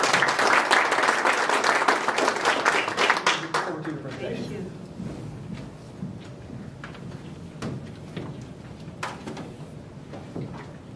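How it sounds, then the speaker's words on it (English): Warm audience applause at a fintech meetup in an office space, thick clapping for the first few seconds that thins into scattered claps and room murmur with some talking. "Let's give him a warm applause."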